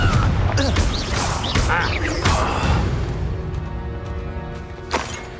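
Spell blasts from Confringo in the game Hogwarts Legacy, with several loud, dense explosive bursts packed into the first half and a fainter impact near the end over a constant game soundscape.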